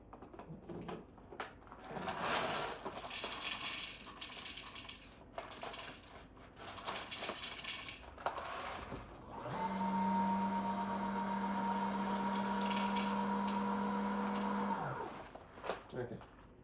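A Breville Oracle BES980BTR espresso machine grinding coffee beans, a steady mechanical whir that sets in partway through and holds for several seconds before cutting off, after clattering handling sounds and background talk.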